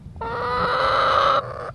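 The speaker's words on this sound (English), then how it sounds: "He had chickens donated from local farmers and also Pie Ranch" Chickens in a school garden, donated by local farmers, let out one loud, sustained, harmonic squawk lasting over a second, close to the microphone with no talking.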